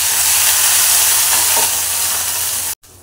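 Ginger-garlic paste hits hot tempering oil with asafoetida and curry leaves for a traditional Konkani black pea curry, giving a loud, steady close sizzle and frying hiss that cuts off abruptly near the end.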